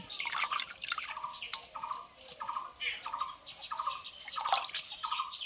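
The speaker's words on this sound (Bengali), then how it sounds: "এইভাবে আমি 2-3 বার ভালো করে ধুয়ে নেব।" Sliced potatoes being rinsed by hand in a bowl of water, with repeated splashing and dripping sounds in short bursts, fairly close and clear, with no talking.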